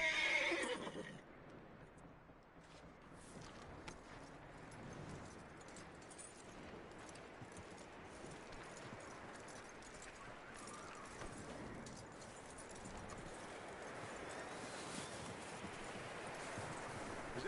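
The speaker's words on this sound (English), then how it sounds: "That looks like a decent horse" In the Red Dead Redemption 2 video game, a horse whinnies faintly and its hooves clip-clop softly and steadily for a long stretch, at low level in a quiet outdoor setting.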